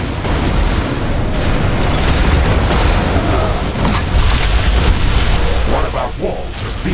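Walls are destroyed in The Riftbreaker video game amid a dense, loud wash of continuous explosions and booming impacts, with a voice heard over the blasts.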